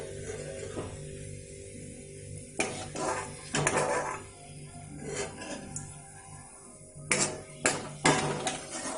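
Dry fruits and nuts being roasted in ghee in a pan for bajra laddu, with repeated metal clanks and scraping of a spoon against the pan in irregular bursts over a faint low sizzle, close and moderately loud.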